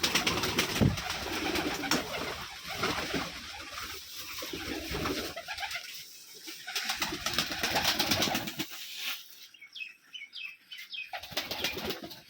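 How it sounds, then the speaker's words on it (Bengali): Pigeons being fed on a farm in Rajshahi flap their wings in bursts and coo nearby, with scattered rustling and soft bird calls in between. "এই যে কবিতরকে খাইতে দিচ্ছে সবগুলো কবিতর।"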